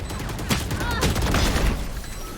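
Dense rapid gunfire in the tactical shooter Valorant during a ranked match, several close shots in quick succession with game sound underneath.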